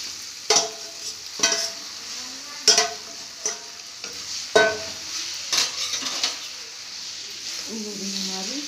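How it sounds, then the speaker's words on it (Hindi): Maggi noodles cook in masala in a pan, with repeated sharp spatula scrapes and knocks against the pan over a continuous sizzle. A voice is faintly heard near the end. "ये भी हमारी मैगी, मैं इसको पका लेती हूँ।"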